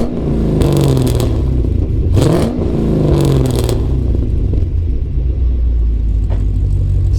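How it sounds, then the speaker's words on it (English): A 2012 Chevrolet Camaro 2SS 45th Anniversary V8 with a MagnaFlow aftermarket exhaust revs in a few loud, close blips that rise and fall over a steady deep idle rumble. "I'll rev the engine a little bit so you can hear some of that V8 music."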